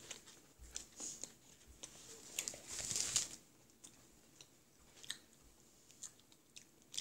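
Someone bites and chews a hard frozen Halloween candy, close-up crunches and wet chewing in an irregular rhythm, with a louder crunchy burst midway, otherwise quiet.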